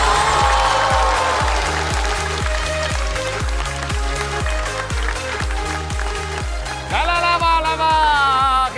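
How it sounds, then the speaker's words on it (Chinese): Audience applause at a stand-up comedy show competition, heard under loud music with a pounding rhythmic bass beat that dominates throughout. "再次把掌声送给小齐，恭喜小齐"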